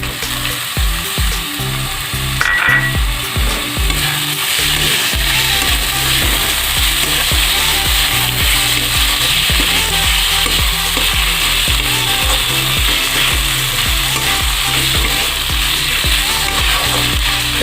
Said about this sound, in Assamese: এইখিনি ভাজি ল'ব লাগিব অলপ সময়